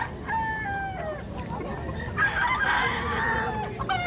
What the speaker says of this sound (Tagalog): nandito po ang malaking pamilya ng mga manok sa Bukawi